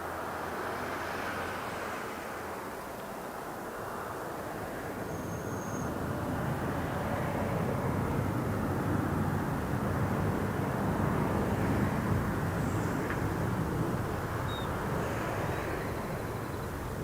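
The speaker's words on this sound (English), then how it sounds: "up next we have Southwest flight SWA 716 heading over to San Diego" A Southwest Airlines Boeing 737 taking off from Las Vegas Harry Reid International Airport, a broad jet rumble that builds gradually and holds as a sustained roar in the distance.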